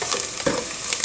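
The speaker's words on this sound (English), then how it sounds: "I'm going to fry it or saute it for about maybe 1 or 2 minutes." Ingredients sautéing and being stirred in a hot pan for Mediterranean lemon herb chicken, a close, continuous sizzle and fry with a brief scrape of stirring, no voices.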